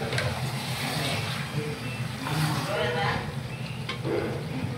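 Chicken liver fry is stirred in an oiled pan: continuous sizzling and frying hiss with scraping and stirring strokes, close and moderately loud throughout.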